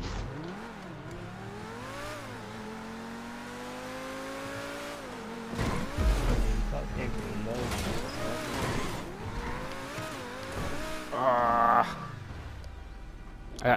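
A car racing in GTA V, engine revving up and down through gear changes with rising and falling whine, tire squeals and a harsh scrape near the end, heard up close throughout.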